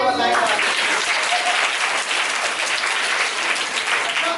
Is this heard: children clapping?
yes